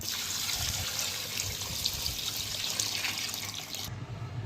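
Water pours steadily into a pot of fish soup with lemongrass, a continuous splashing rush close by that stops abruptly near the end.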